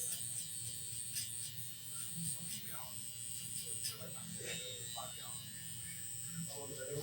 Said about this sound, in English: I can bring this trimmer in here a little bit, see if I can reduce some of this